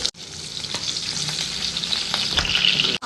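Green chillies, whole spices and onion frying in hot oil for bagara rice, a continuous bright sizzle up close with a few soft stirring knocks, no voices.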